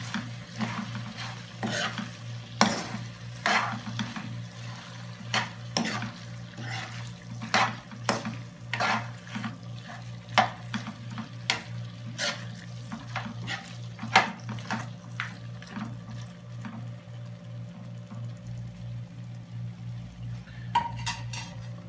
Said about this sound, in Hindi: और अब इसको मिक्स करेंगे, थोड़ा भून लेंगे